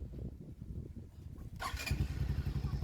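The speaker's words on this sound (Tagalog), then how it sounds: "At pakinggan lang natin yung makina niya, no." A motorcycle with a double-battery setup cranks and catches, then settles into a close, rhythmic low idle, fairly quiet, with no talking.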